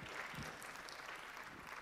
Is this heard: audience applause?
yes